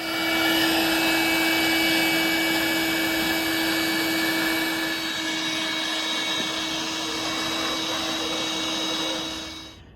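A power drill with a step bit bores through the decklid of a Ford GT500, giving a steady, loud whine that holds for nearly ten seconds and then cuts off at the end.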